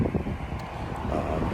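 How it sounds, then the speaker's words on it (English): Gusty wind blows outdoors, buffeting the microphone with a loud, continuous low rumble while someone picks up a car after a bumper repair. "I know it's a bit windy out."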